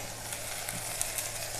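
Tomatoes go into golden fried onions, giving a steady close sizzle with faint stirring, no voices.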